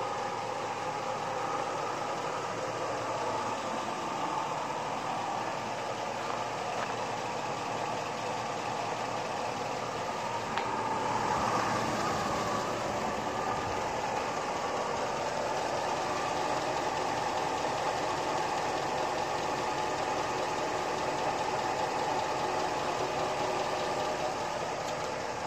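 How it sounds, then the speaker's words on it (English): A warm LS engine fitted with Comp Cams Evolution hydraulic roller lifters idles steadily, a constant mid-pitched mechanical hum with faint ticking, heard close and moderately quiet for the whole stretch with no speech. "The engine is fully warmed up at this point."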